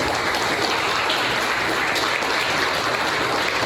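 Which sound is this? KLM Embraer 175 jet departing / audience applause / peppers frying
audience applause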